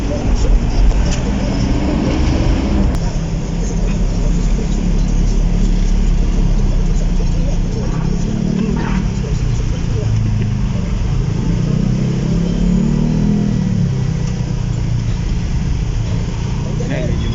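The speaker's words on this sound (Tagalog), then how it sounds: "Traffic." Road traffic in Caloocan City: a continuous wash of nearby car and bus engines idling and rolling past, with swelling low engine drones and occasional faint street sounds, no talking.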